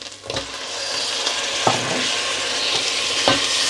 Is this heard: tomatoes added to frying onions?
yes